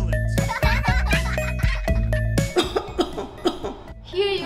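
A cartoon child coughs several times in short bursts, close and clear, alongside musical tones and a few voiced sounds.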